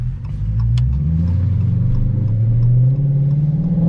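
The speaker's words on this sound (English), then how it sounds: "as soon as this car get past" A car drives past up close at night, a steady loud engine rumble that rises in pitch and stays strong through the whole pass, with no talking.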